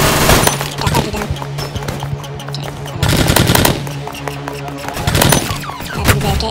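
Rapid automatic gunfire from a pink gun in a Roblox shooter game, loud bursts of fire coming in waves with short pauses between them across the whole stretch.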